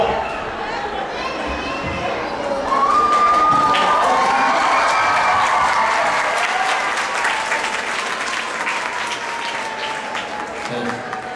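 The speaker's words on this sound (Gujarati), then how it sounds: "આ બધા કલાકારોને તાળીઓ જોરદાર ગરબા સાથે વધાવી આપણે" An audience gives steady, loud applause to performers at a stage show, with cheering and crowd chatter mixed in and a voice calling out over the clapping.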